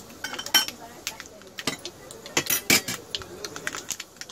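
Tempering pan with urad and chana dal being stirred, sharp metallic clinks and scrapes in uneven bursts, close by, with faint background sounds between strokes.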